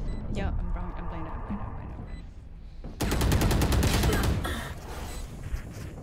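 Gunfire in the video game Valorant: a sudden dense burst of rapid shots cuts in midway and rattles on for a couple of seconds, following a stretch of voice and game sounds.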